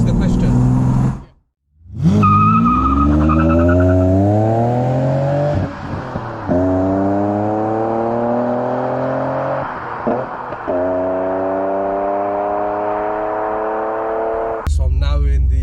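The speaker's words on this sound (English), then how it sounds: "what an experience this is with the V12 and the manual gearbox" A 1992 BMW 850i E31 with its V12 and manual gearbox drives under steady load, with a loud engine note that climbs through the gears and briefly cuts out during shifts.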